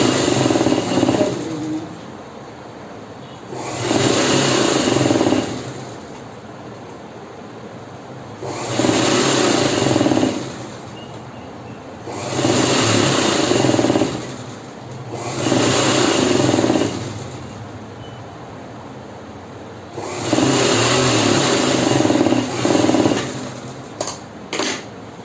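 A sewing machine stitches a blouse sleeve in repeated loud, whirring runs of a few seconds each, separated by short pauses, with no voices.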